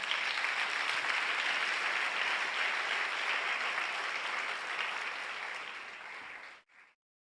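Church congregation applauding in a French-language worship service, a dense sustained burst of clapping that holds steady for several seconds, then fades and cuts off abruptly.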